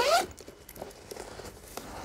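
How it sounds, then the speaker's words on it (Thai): The inner zipper of a Tenba Cooper 8 messenger bag is pulled open in one quick, close rasping zip. Soft handling rustles and light clicks of the bag follow. "ด้านในจะมีซิปอีกชั้นหนึ่งนะครับก็รูดออกมา"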